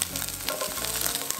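Pancetta for carbonara fries in a pan with a bright, crackling sizzle and a few light spatters, close and steady for a brief moment under a low background hum.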